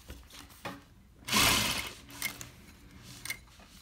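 An industrial servo-motor sewing machine, a New Tech GC-8700 or Juki DL-8700 type, stitching regular vinyl and running in short bursts, with one louder burst of stitching near the middle. The sound is fairly close and quiet, with no talk.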